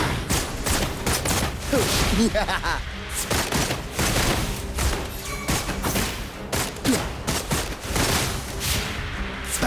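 Dense bursts of rapid video game gunfire crackle and boom continuously, with brief voice snippets mixed into the loud barrage.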